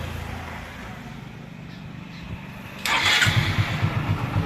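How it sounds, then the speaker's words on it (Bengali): A Hero Super Splendor motorcycle's self-starter cranks briefly and the engine catches, settling into a close, steady, rhythmic idle after a quiet background stretch. "আমাদের বাইকে সঠিকভাবে সেলফ নিয়ে নিচ্ছে"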